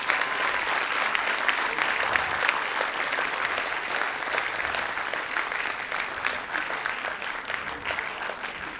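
Sustained audience applause at a Bharatanatyam arangetram dance performance, dense and steady throughout as a crowd claps together, with no speech over it.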